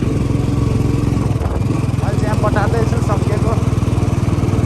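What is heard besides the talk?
motorbike riding uphill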